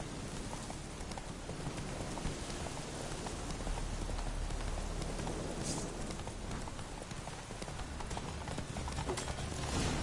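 Hoofbeats of a galloping horse in The Witcher 3, a rapid clip-clop rhythm running steadily under a wash of rain-like noise, moderately quiet and continuous.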